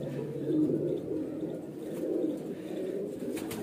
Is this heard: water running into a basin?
no